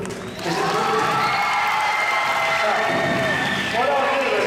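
A crowd at an Australian stock horse national exhibition claps and cheers loudly, sustained whoops and shouting voices riding over dense clapping after a brief quieter start, with a fresh swell near the end.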